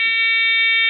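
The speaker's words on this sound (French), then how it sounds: "on voit qu'il y a une alarme." Steady electronic alarm tone from an industrial machine, sounding at start-up when a ventilation fan motor switches on; one loud, unbroken buzzing beep holds at a constant level for the whole second.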